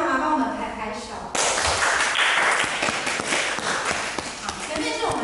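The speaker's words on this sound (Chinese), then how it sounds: "请爸爸妈妈帮我们拍拍手" Parents clap their hands for a children's ballet class at a small recital. The applause is bright and steady, rising suddenly and continuing for several seconds with scattered individual claps, and a teacher's voice is heard before it starts.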